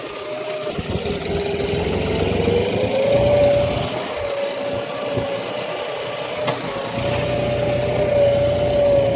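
A tractor engine drones steadily nearby while harrowing a field, its pitch rising and falling slightly as it works under load, with no talking.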